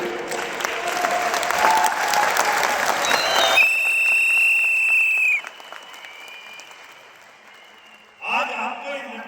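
Seminar audience at a Hindi business leadership talk clapping in a dense burst for several seconds, then cut off abruptly and replaced by a sustained electronic tone and a speaking voice near the end.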